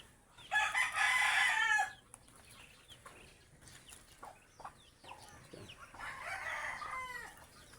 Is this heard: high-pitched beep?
no